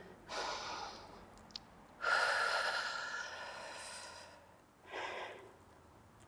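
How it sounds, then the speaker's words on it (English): Three slow, audible breaths during a stretching and mobility workout, each a soft airy inhale or exhale separated by brief pauses, close and fairly quiet with no talking. "Slow the breathing down again."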